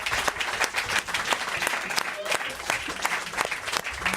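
A studio audience at a French talk show breaks into loud, sustained clapping, with voices talking over the applause.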